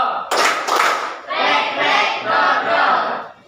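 A classroom of students performs a patterned group clap, a few sharp near claps followed by a sustained burst of loud group voices and noise.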